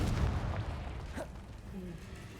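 Confringo fire spell cast in the video game Hogwarts Legacy, a rumbling burst at the start that decays into a fading, crackling tail.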